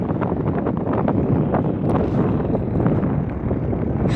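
Sea wind blows steadily across the microphone on an open hillside, a loud, rough buffeting rumble with gusty peaks and no voices.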